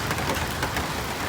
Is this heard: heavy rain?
yes